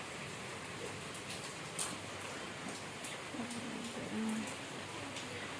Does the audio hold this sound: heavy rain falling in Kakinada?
yes